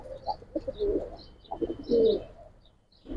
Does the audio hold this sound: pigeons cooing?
yes